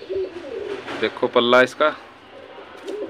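Pigeons coo in short rounded bursts close by, a breeder's jaal-patterned fancy pigeons, while someone talks over them.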